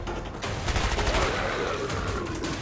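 Gunfire rattles through the Killing Floor video game in a dense, continuous fusillade of rapid shots, fairly loud and steady across the whole stretch with no voices on top.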